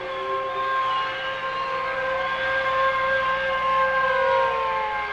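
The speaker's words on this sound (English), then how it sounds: "Then the sirens would rise and then fall slowly." Civil defense sirens wail steadily with layered tones that slowly rise and fall, sustained and fairly loud for the whole stretch with no voices.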